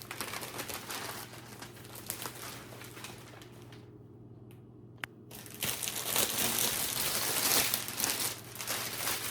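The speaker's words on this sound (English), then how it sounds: "So I've got this cello wrap from Temu, and it's got some little dots on it" Cellophane gift wrap printed with little dots crinkles and rustles in close, busy bursts, pausing briefly midway before louder handling resumes, with no talking.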